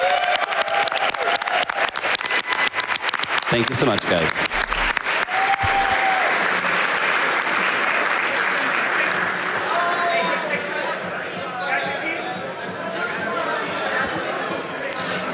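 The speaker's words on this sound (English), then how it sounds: "can we get one more big round of applause for everybody who was involved with TASBot this year?" A large event audience gives a big round of applause for the TASBot team, loud sustained clapping with scattered cheers and chatter, while a voice briefly speaks over it.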